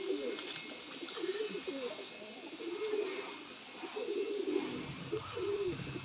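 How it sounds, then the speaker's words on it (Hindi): Pigeons kept in a fancier's loft coo softly in repeated low, rolling phrases, fairly faint and close, with brief pauses between bursts and no talk over them. "बहुत ही लाजवाब कबूतर है"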